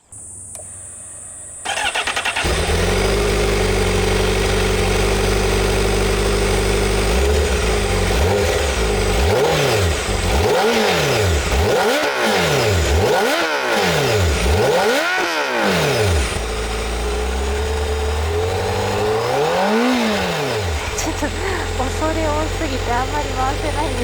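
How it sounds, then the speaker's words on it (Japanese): A Honda CBR1000RR-R sport motorcycle engine starts up and idles, then is revved repeatedly in sharp rising-and-falling bursts, loud and close, with one final rev after a pause. "エンジンをかけてみましょう。"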